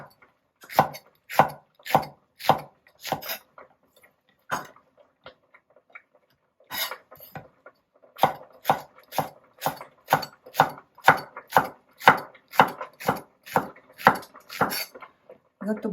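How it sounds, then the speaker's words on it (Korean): Cheongyang chili peppers are sliced thinly on the diagonal with a knife, a close series of crisp rhythmic chops on a cutting board, pausing briefly midway before resuming at a steady pace. "청양고추도 얇게 어슷썰기"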